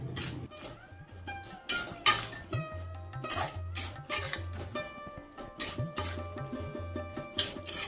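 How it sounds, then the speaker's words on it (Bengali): Raw mango pickle with sugar and vinegar is stirred in a metal pan, making repeated clinks and scrapes of the utensil against the pan in uneven bursts, close and fairly loud, with no voices. "ভিনিগারটা দেওয়ার পরে খুব ভালোভাবে নাড়াচাড়া করে চিনি আর ভিনিগারটাকে আমের সাথে মিশিয়ে নিচ্ছি"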